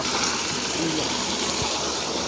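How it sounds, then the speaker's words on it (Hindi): Water rushes steadily from a donkey water pump as the motor draws it up, a loud continuous broadband gush close by with no pauses. "ये देखिए जी पानी आने लग गया"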